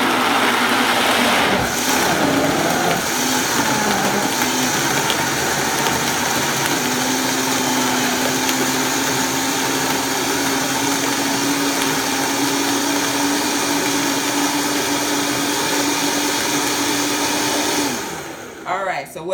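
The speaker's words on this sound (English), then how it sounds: "sometimes the power of the Vitamix, it will make the nut milk kind of come up out of the blender" Vitamix blender blending almonds into nut milk, a loud continuous high-pitched motor roar that holds steady for about eighteen seconds, with the pitch shifting slightly partway through, before cutting off.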